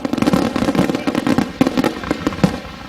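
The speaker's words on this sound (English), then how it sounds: "tonight, fireworks are going off" Fireworks at Mohawk International Raceway pop and crackle in a fast, uneven string of loud bursts, dense and steady, with no voices over them.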